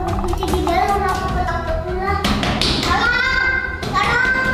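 Someone knocks on a locked room door, a string of light rapid taps mixed with a few duller thuds, while children's voices and playful chatter run loud over and between the knocks.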